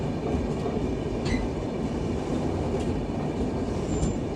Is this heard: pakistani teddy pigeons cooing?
no